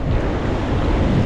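Sea waves breaking on the open, empty coast at Varkala, Kerala, under strong wind, a continuous close, loud wash of surf and wind buffeting with no pauses.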